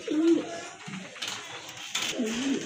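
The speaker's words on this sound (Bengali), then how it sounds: "আর এক জোড়া কবুতর দেখতে পাচ্ছেন, চকো গ্রিজেল" Pigeons cooing at close range, chocolate grizzle pairs kept for sale, with two or three soft rolling coos separated by short pauses and no talk over them.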